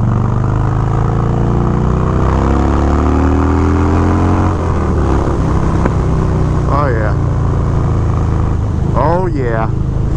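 Harley-Davidson Dyna Low Rider motorcycle engine running loud and close while riding, a deep throaty rumble that rises and shifts in pitch, with speech over it.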